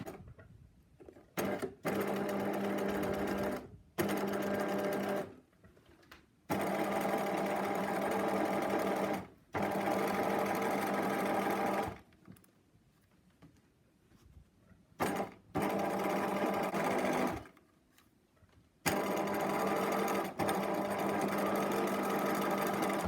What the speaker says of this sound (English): So I'm going to start sewing just about a ½ centimeter down from the top.